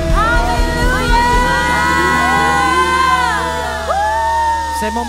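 A church congregation at an Indonesian worship service cheers and shouts hallelujah over applause, a loud, sustained crowd roar with musical tones from sustained keyboard or band chords running throughout.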